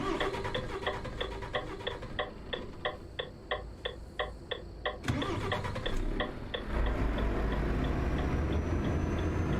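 A truck engine in the Euro Truck Simulator game: a steady, even ticking repeats for several seconds, then the engine cranks over and settles into a loud, continuous rumble, with no talk.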